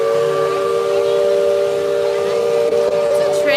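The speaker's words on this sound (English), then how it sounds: "Why are we hearing a train whistle?" The Liberty Belle riverboat at Magic Kingdom sounds its steam whistle, a loud sustained steady tone with a hissing edge that holds for several seconds, close by.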